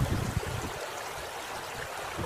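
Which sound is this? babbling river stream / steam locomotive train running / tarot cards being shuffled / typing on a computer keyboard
babbling river stream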